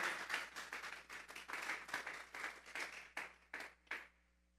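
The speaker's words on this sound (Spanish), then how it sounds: "Vamos a darle una ofrenda de palmas a Dios en esta tarde." A church congregation claps in praise during a service, a quiet, fairly distant run of mixed hand claps that thins out to a few last claps before stopping.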